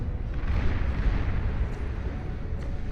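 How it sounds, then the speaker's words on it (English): Cerberus cannon fire in the strategy game Beyond All Reason, heard as a dense, continuous low rumble of artillery blasts on a front line, loud and steady throughout. "Cerberus cannon firing away"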